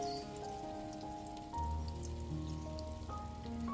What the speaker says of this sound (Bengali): এইবার আমি এই রকমভাবে তেলের মধ্যে দিয়ে দিয়ে কোপ্তাকে ভেজে নেব।